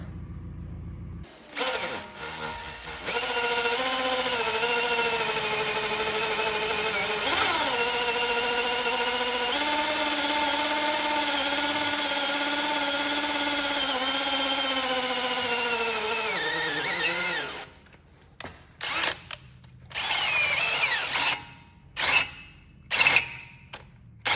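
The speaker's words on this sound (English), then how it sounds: "So I just need to drill through there now." A power drill whines steadily for about fifteen seconds as it drills through metal on a Takeuchi excavator king post, pitch dipping briefly as it bites, then stops and gives several short bursts.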